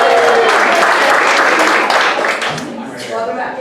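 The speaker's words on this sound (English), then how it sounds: "Round of applause for our awesome float." A crowd at a live show applauds and cheers loudly at close range. The clapping is thick and continuous, fades a little toward the end, and voices call out and cheer over it.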